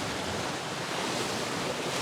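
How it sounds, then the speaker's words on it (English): Moving water of a lake in Norway, a continuous broadband wash of rippling and lapping water with some wind noise, steady and fairly close, with no voices. "I hope to get some great shots of this moving water."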